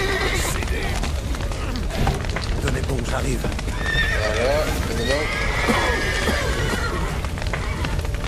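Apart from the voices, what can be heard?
horse neighing in video game The Witcher 3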